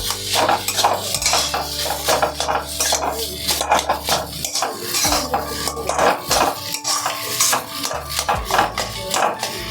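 Grated potato is mixed with beetroot and carrot in a bowl, a metal spoon clinking and scraping repeatedly against the dish in an uneven rhythm, close and clear with no speech.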